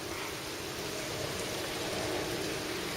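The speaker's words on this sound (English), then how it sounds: "It's been raining most of the night." Spring rain falls steadily as a dense, even hiss of drops on surfaces, continuous and close with no breaks.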